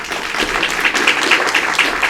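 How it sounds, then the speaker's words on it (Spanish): An audience at a scientific conference in a hall applauds. The clapping is dense and steady for about two seconds, loud and close, with no speech over it. "La recibimos con un caluroso aplauso."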